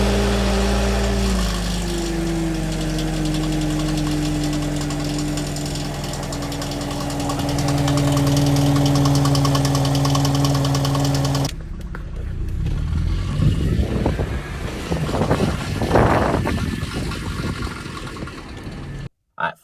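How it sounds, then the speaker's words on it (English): A Mercedes-Benz car decelerating with an annoying rattle, a loud steady engine drone with falling tone that gives way to rougher, uneven rattling and road noise, ending abruptly. "there's just this annoying rattling sound"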